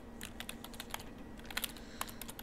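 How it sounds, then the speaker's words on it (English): Rapid computer keyboard typing from the video game Everlasting Summer, a quick, irregular stream of soft clicks over a low hum, fairly quiet and with no voices. "It's keyboard typing."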